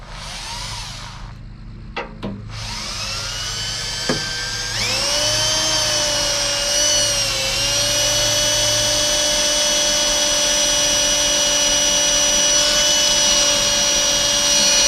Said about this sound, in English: I'm going to try and somewhat slowly drill the holes.